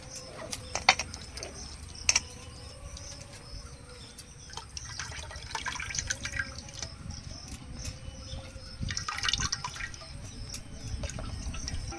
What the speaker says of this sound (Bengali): খানিকটা তেঁতুল আগে থেকে ভিজিয়ে রেখেছিলাম, এটাকে ভালো করে চটকে নিয়ে তেঁতুলের কাঠটা জলের মধ্যে দিয়ে দেবো